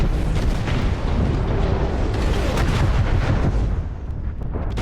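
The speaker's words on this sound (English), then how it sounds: "Artillery." Artillery fire in a mech combat video game, a dense, continuous barrage of loud booming blasts and rumbling explosions that runs unbroken and fades slightly toward the end.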